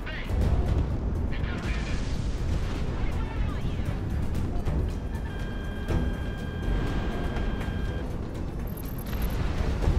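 Bombing and gunfire from an F4 jet in a flight combat video game: a steady barrage of booming explosions and rattling fire fills the whole stretch, loud and continuous, with some electronic tones from the game over it.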